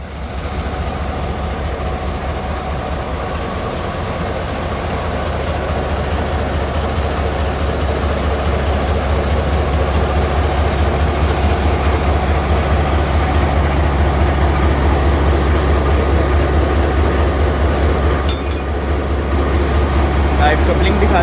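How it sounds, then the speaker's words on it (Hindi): Diesel locomotive GMC 154901 moves up to couple with the Chenab Express rake at a station near Sargodha, giving a loud, continuous low engine rumble throughout, with faint voices in the background. "हमारी leading power GMC 154901 train rake के साथ कनेक्ट होने आ रहा है"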